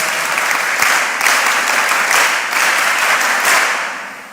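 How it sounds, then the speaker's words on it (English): A crowd applauds, a dense, even wash of clapping that holds steady for a few seconds before tapering off toward the end. "Please give him another round of applause."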